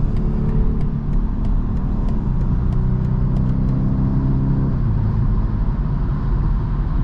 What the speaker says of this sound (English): Yeah, the upshifts are very aggressive.